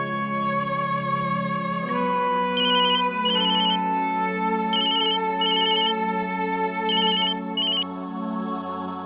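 A mobile phone ringtone plays loudly and continuously, a tonal melodic tune with repeating bright chime-like phrases over a sustained backdrop, heard alone without any speech.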